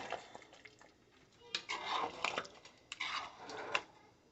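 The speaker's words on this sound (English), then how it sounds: "I must stir it." Spinach vegetable soup being stirred in a big pot, with soft wet sloshing and scraping in a few uneven bursts, fairly close and alone.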